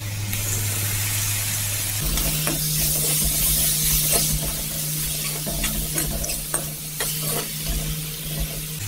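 Ginger, garlic and tomato frying in a pan, a steady close sizzle with occasional stirring scrapes over a constant low hum from a stove or fan.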